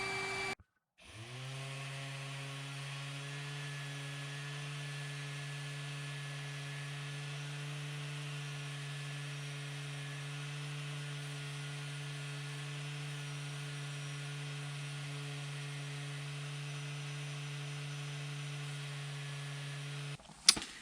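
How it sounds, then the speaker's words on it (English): An orbital sander smooths the wooden door of a bandsaw box with a steady, even electric whir that runs unbroken for about twenty seconds before cutting off, with no other sounds over it. "we'll use the orbital sander and then some hand sanding to finish off the door"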